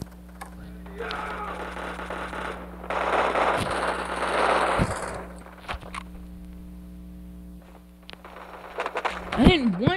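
Gunfire in the Bullet Force shooter game, bursts of rapid shots mid-clip over a steady game hum, with short sharper pops and a rising electronic tone near the end.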